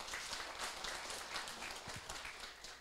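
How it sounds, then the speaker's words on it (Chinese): An audience in a lecture hall at a Taiwanese senior administrative training class claps for the lecturer, a soft, fairly distant wash of applause holding steady before fading slightly. "我们再次以热烈的掌声，谢谢张老师哈"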